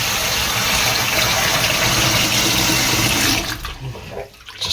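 Cold water runs steadily from a kitchen tap while dough is washed to make vegetarian chicken from gluten, a loud continuous rush that stops abruptly near the end and leaves a quieter, uneven trickle.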